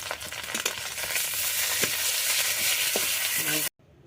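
Onion, ginger and garlic paste frying in a pan while being stirred, a steady close hiss of sizzling oil with occasional scraping knocks of the spoon, ending abruptly.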